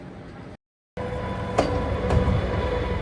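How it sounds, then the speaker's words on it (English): A train on the Flåm Railway in Norway pulls into a station, rumbling close by with a steady heavy roar and a couple of brief metallic clanks, after a short silent gap at the start. "The train pulled in and the locomotive looked pretty serious."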